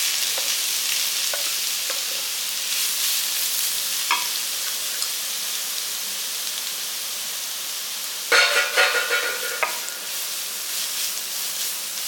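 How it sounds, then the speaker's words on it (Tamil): Carrot pieces sautéing with cashews and raisins in a pan on a low flame for a Tamil sago-carrot payasam, a soft steady sizzle with light stirring scrapes and a brief louder crackle burst near the end. "சிறு தீயிலே வச்சு நல்லா வதக்கிக்கிங்க."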